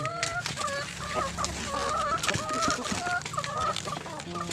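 Chickens cluck repeatedly and busily close by, with overlapping calls from several birds and a hint of crowing, set against steady farmyard background noise.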